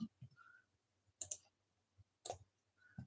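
A computer mouse clicking in small, sharp bursts, single and double taps spaced by quiet gaps, close and fairly soft, with a faint low hum underneath.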